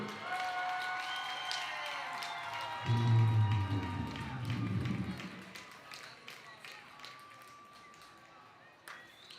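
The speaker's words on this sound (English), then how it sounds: "Let's hear it for both Julissa and Aiden." Applause and scattered clapping rise from the stands at a high school football game between Fort Vancouver and St. Helens, swelling briefly and then fading while an announcer's amplified voice talks over it.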